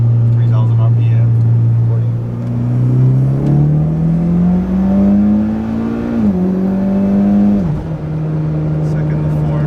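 A Mitsubishi Lancer Ralliart engine in S Sport mode climbs in pitch, then drops sharply at each gear shift, loud and close from inside the car.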